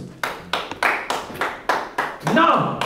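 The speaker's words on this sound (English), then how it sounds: "Clap for Jesus" A church congregation claps in a slow, regular rhythm, about eight loud, close hand claps in unison, with a voice rising over the last beats.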